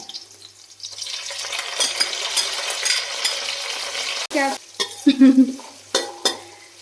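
Onions and curry leaves frying in a pan for beef curry, a loud close sizzle that swells and holds, then a few sharp spoon clatters against the pan toward the end.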